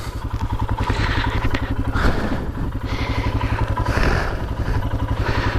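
Royal Enfield Himalayan motorcycle engine idling close by, a steady loud low thumping pulse with light mechanical clatter running unbroken throughout.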